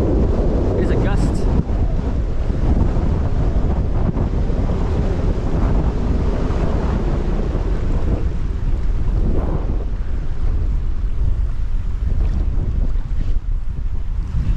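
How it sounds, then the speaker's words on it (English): A strong wind gust roars across a sailboat lying at anchor in New Zealand's Marlborough Sounds, a loud continuous rush with buffeting on the microphone and faint talk beneath it. "Here's a gust."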